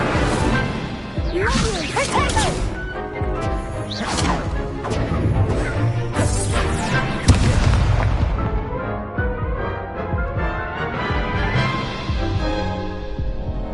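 Incendio fire spell cast in the video game Hogwarts Legacy during a spell duel. Loud, dense whooshes and crashing bursts of magic impact pile up across the stretch, with booming hits and no clear talking.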